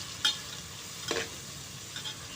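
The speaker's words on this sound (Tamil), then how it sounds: "வெங்காயம் நல்லா வதங்கி வருதுங்க" Onions sautéing with salt in a pan, a faint low sizzle with a few soft spatula scrapes and stirs, quiet and steady with no talk.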